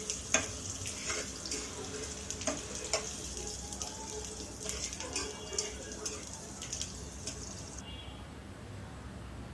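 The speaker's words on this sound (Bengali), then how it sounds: "তেলের মধ্যে আমি পেঁয়াজ কুচি দিয়ে দিলাম, 2টি শুকনো লঙ্কা দিয়ে দিলাম" Chopped onion and two dried chilies fry in oil for an okra dish, giving a soft, steady sizzle with scattered crackling ticks, quiet and close, under intermittent talking.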